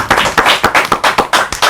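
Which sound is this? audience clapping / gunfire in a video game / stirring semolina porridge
audience clapping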